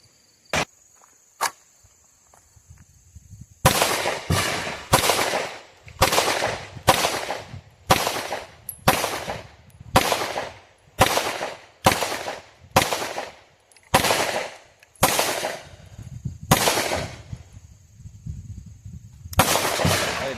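PSA Dagger pistol fired at an outdoor shooting range: two isolated sharp shots, then a steady string of about fifteen loud, evenly spaced reports, each with a brief ringing tail.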